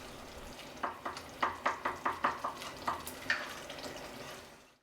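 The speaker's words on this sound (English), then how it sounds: "Simmer until the sauce thickens." A thick homemade BBQ sauce of crushed tinned tomatoes simmers quietly in a pan, sending up a string of soft, evenly spaced bubbling pops that fade away at the end.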